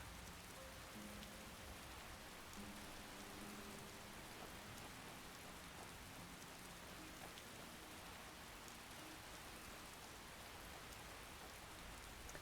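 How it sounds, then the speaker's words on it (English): Steady rain falls in the video game Skyrim in a cold, wet outdoor setting, a constant dense patter that holds evenly loud throughout with no voices. "And it's rainy and cold."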